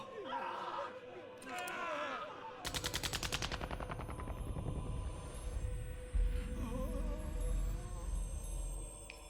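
Soldiers fire a sustained burst of rapid automatic gunfire in Final Fantasy 13, a loud rattling run of shots in the middle of game dialogue and ambient score, with voices before and after.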